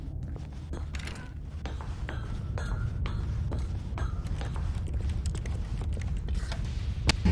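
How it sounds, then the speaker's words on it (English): A large heavy door opens in the video game The Stanley Parable, giving a long mechanical creaking and grinding over a steady low rumble that holds for several seconds at moderate loudness. "Stanley walked straight ahead through the large door that read Mind Control Facility"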